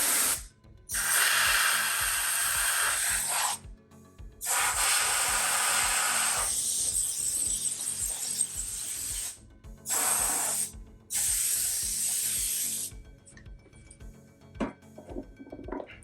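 Compressed air sprays in several long bursts inside an opened 2011 27-inch Apple iMac to clear dust, hissing loudly up close with short pauses between blasts and faint clicks toward the end.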